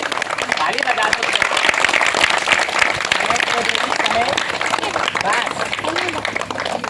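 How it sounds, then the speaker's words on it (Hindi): Dense, steady applause from a crowd at a village tantra-mantra magic show fills the whole stretch, a loud continuous wash of many hands with shouting voices mixed in. "ताली बजा दो सब लोग, ताली बजा दो"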